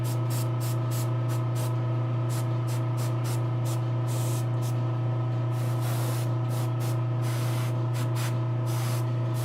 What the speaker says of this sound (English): So anywhere there would be a shade, we're gonna spray a lot there.